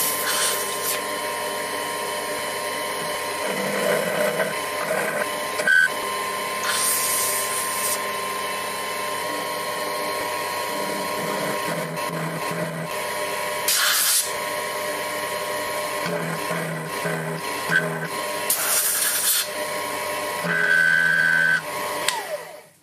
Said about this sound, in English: so I used the starter drill again